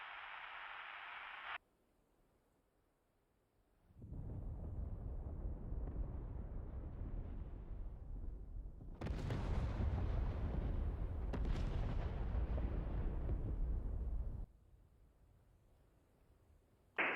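Cluster bombs pound a group of tanks in the DCS F-16 combat flight simulator, producing a long rolling roar with heavy, rumbling bursts that swell and overlap, then fade into a low background hum.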